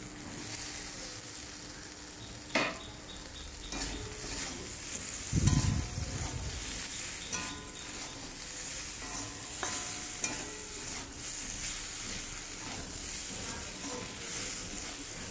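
Gram flour with roasted spices and a splash of water frying and being stirred in a pan for an okra dish, a steady close sizzle with scraping stirs and a burst of bubbling partway through.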